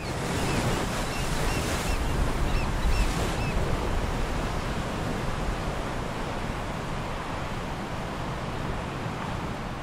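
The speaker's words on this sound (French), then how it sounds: "les vagues éclatent sur un rivage rocailleux et accidenté" Waves crashing on a rocky, rugged shore at De Hoop in Africa, a dense continuous roar of surf with wind noise and a couple of brief higher bird calls early on.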